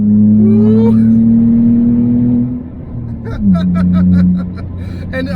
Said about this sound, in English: This smart car is so loud. it's obnoxious, yes.